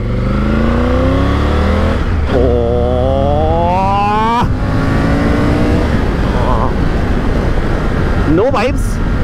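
Triumph Tiger 900 Rally Pro motorcycle accelerating hard on a main road, loud continuous engine with rising pitch sweeps through several gear changes, a rider's voice briefly present over the engine.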